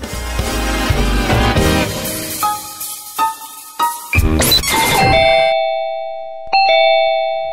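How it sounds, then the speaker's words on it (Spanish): A ding-dong doorbell chimes loudly in a comedy sketch, ringing out over music, with a few bright tones that ring on and decay into silence. "¡Ay, que mi amor, están tocando el timbre!"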